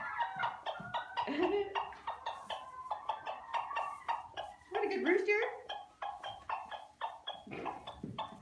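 A rooster gives a rapid series of tidbitting clucks in a pulsing rhythm, close and fairly loud.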